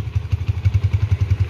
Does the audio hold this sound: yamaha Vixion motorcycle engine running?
yes